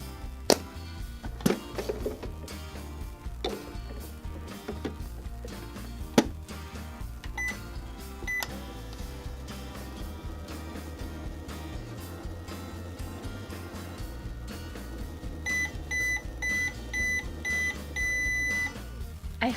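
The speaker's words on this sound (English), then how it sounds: "Let's see if we can create some more magic with our microwave." A toy microwave at a play table clicks and rattles through a cycle, with scattered knocks and thumps, then sends out a string of short, high electronic beeps near the end.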